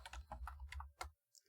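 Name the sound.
computer keyboard typing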